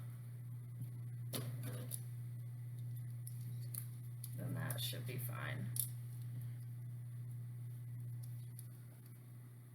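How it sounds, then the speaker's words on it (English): Scissors snip through paper to cut out a four leaf clover bookmark, with a few short crisp cutting bursts under nearby speech and a steady low electrical hum. "I'm just going to hold it like a pencil and cut as close to this blue outline as I can without going into it."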